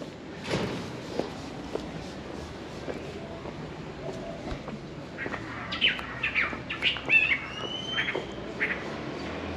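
Birds chirp and squawk along a cobbled street, with scattered calls and a few louder squawks and whistles in the second half over steady street ambience.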